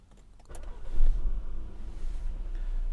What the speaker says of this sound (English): Foot on the brake, press the starter button down here